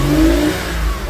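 Porsche engine revving loudly and close by, a steady throaty roar with a misfire developing, holding strong for about a second before easing slightly.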